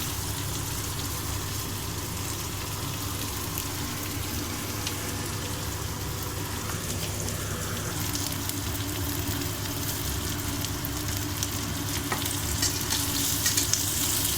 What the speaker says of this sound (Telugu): ఉల్లిగడ్డ, పచ్చిమిర్చి ఇందాక కట్ చేసి పెట్టాను కదా, ఇవన్నీ వేసేస్తున్నాం.